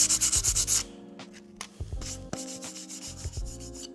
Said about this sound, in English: Bit of sandpaper.